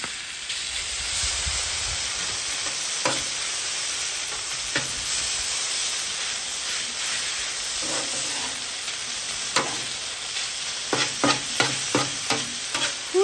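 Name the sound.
chicken noodle stir fry sizzling in pan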